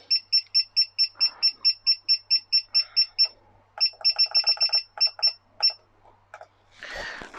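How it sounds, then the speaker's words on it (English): A Grainfather brewing controller's timer is set during a 90-minute boil, giving a run of sharp, evenly spaced electronic beeps, then a faster irregular burst of button beeps, all close and clear against a quiet room. "So let me set the timer on that."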